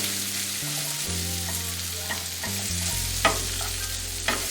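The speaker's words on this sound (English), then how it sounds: "going to saute it just like this" Seasoned seafood sautés in olive oil in a pan, a steady close sizzle with soft stirring scrapes and occasional clicks of a utensil against the pan, under a low background hum.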